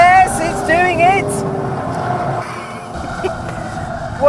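A 2016 Ford Focus RS engine and exhaust, with artificial engine noise piped into the cabin, roars loudly and continuously as it pulls out of a tight corner, under the driver's voice.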